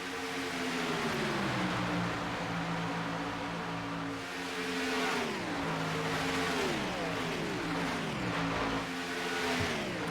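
A pack of simulated stock cars in iRacing at Talladega drones steadily, overlapping engine tones rising and dipping together in waves with gear-shift drops, a continuous dense roar without talk.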